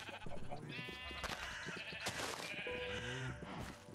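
Minecraft sheep bleat repeatedly in wavering, drawn-out calls, close and fairly loud over steady in-game background sound, with no voices present.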